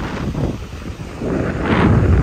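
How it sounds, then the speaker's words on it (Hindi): Strong wind gusts at Kanyakumari, India's southern tip, buffet the microphone in rumbling surges, rising louder toward the end, with no voices. "तेज़ हवा चल रही है कितनी तेज़"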